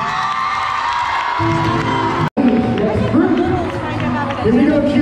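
Audience at a jazz dance competition for dancers 12 and under, cheering, whooping and shouting in loud continuous bursts that swell and fade, with children's voices and chatter in the crowd.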